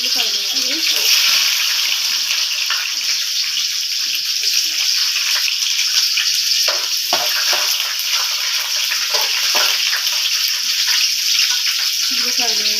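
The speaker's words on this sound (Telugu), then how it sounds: "ఉల్లిపాయలు వేయాలి." Onions frying in hot oil with mustard seeds, cumin, urad dal and chana dal, a loud, steady, hissing sizzle that continues throughout, with a few stirring scrapes partway through.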